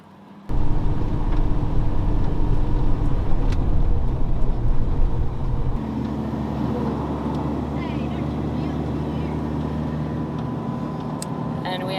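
A car cruising on an open highway across the Nullarbor in Australia, a steady broadband road and engine drone that drops to a lower, smoother hum partway through, with talk over the first half.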